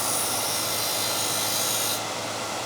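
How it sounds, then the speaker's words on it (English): A spindle roughing gouge cuts into a spinning workpiece on a wood lathe, trueing the outside of a turned box with a steady, close, rasping hiss that cuts off abruptly near the end. "We can use the spindle roughing gouge just to get a nice clean"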